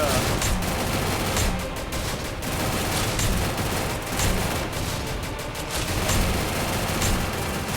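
Gunfire in the mobile shooter game Free Fire crackles in a dense, continuous stream of rapid shots, with bursts rising and falling at moderate level over game background noise.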